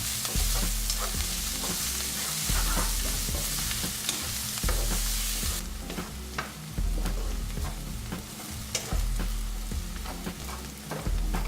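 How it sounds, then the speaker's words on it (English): Onions and green chilies sauté in a pan for Sindhi lamb, giving a constant sizzle broken by regular scraping strokes of a spatula, alone and fairly close. "We're just going to saute this till the onions are golden brown."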